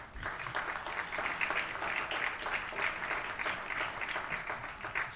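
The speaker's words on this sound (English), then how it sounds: "Let's give these gentlemen a round of applause." Sustained applause from a crowd at a hall of fame ceremony in a Legion hall, steady and fairly loud, with many hands clapping continuously throughout.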